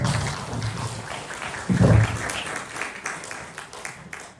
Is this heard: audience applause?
yes